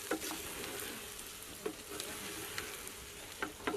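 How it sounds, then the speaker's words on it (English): Rice and meat are stirred together in a pot for Kenyan pilau, a soft sizzle running beneath irregular scraping clacks of the spoon against the pot, close and moderately quiet. "I'm going to add 2 cups of rice to my meat. And then I'm going to stir"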